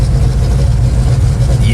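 A Cougar hot rod powered by a dual overhead cam 4.6 Ford twin-turbo engine rumbles steadily at a car show, a deep continuous low-end drone, loud and close, with a voice talking over it.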